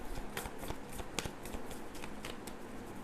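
Tarot cards are shuffled close up, giving a quick run of soft riffling flicks and slaps in an uneven rhythm, with no talking.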